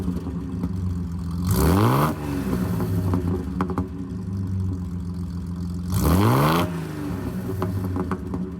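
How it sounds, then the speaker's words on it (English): Exhaust of a 1950s Austin Healey 3000 Mk1 classic British sports car, idling with a burbling note and sharply revved twice, each blip rising and falling quickly, close and loud. "It sounds really meaty, but you want to know where it sounds best? From the exhaust."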